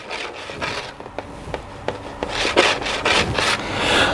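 Sandpaper pre-sanding the oxidized film off a car headlight lens, repeated rough rasping strokes in an uneven back-and-forth rhythm, close and fairly loud, with no voices.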